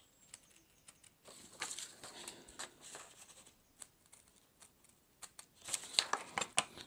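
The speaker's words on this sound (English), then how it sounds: "So we'll just cut this off here." Cutting material by hand for a scratch-built model railway building, heard as quiet scattered snips, clicks and rustling that grow busier toward the end.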